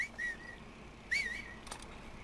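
A character in the Mafia 3 video game whistles to lure an enemy, two short rising-and-falling whistle calls that are faint and clear over a quiet background.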